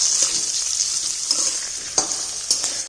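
Green chillies fry in an open pan over medium gas, giving a bright continuous sizzle with a few soft stirring scrapes and small pops, close and fairly loud, with no talk.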